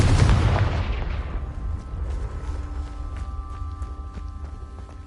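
A Confringo blasting spell explodes in Hogwarts Legacy on PS5: a loud, close, booming blast at the start with a heavy low rumble that fades over several seconds into a lingering hum with faint crackles, and no voices.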